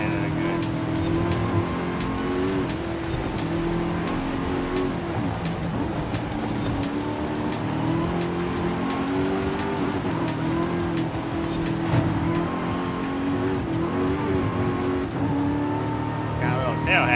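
A car engine in Forza Horizon 5 drones loudly and continuously with shifting revs, and tires squeal now and then as the car slides through turns; a voice talks over it at times.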